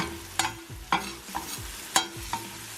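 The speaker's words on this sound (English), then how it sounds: "So I like to take a spatula and just" Spatula stirring oats and cinnamon in a pot on the stove, giving five separate scraping strokes at an uneven pace over a soft sizzle, close and fairly quiet.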